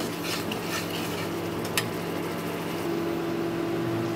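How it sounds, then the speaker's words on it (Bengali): Masala spices being stirred and fried in a pan with green chillies, cooking down for a Bengali kochu and chana dal dish; a steady close rubbing, scraping stir over continuous sizzle and background hum, no talking. "এখন এই মশলাটাকে আমি খুব ভালো করে কষিয়ে দেবো যতক্ষণ না মশলার থেকে তেল ছেড়ে দিচ্ছি"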